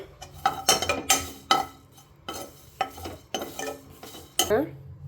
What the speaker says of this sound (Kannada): ಕರಿಬೇವು ಅದು ಕೂಡ ಸ್ವಲ್ಪ ಹುರ್ಕೋಬೇಕು